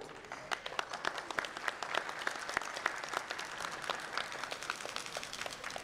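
A room of company executives and directors claps in steady, moderately distant applause at a corporate event.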